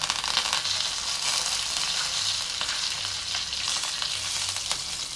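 Mustard seeds, asafoetida and curry leaves crackle and sizzle steadily in a small amount of hot oil, a loud, continuous close-up tempering for ridge gourd bharit with no talking.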